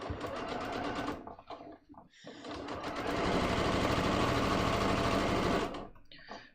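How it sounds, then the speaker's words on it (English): Sewing machine stitching a seam down the middle of a pair of pants, a rapid mechanical whir in two close bursts separated by a short pause. "Now I'm going to go in again and I'm just going to sew down the middle."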